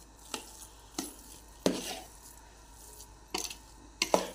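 Gram flour ladoo mixture with ghee being stirred in a pan, heard as about five separate scraping strokes spaced irregularly, fairly soft and close, with no voices.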